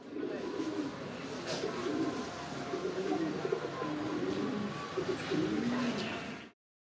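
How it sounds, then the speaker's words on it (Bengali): A white male pigeon at a pigeon market coos steadily in low, throaty murmurs over a continuous hiss of background noise, fairly faint, for about six seconds before the sound cuts off. "একটা হোয়াইট কালার ডাকতেছে, এটা হচ্ছে নর কবুতর"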